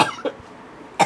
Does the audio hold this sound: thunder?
no